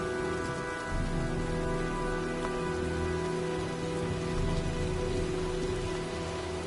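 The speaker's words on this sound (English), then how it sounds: "looks like a storm's coming" Steady rain falls in the PS4 game Heavy Rain as a storm approaches, a continuous wash of drops with a faint low rumble underneath and soft tonal game ambience holding throughout.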